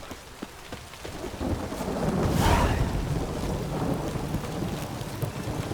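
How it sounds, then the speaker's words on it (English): Rumbling thunder rolls through steady heavy rain in a stormy Witcher 3 game scene, swelling to a loud peak midway before easing back under the continuous downpour; no voices. "A storm, damn it."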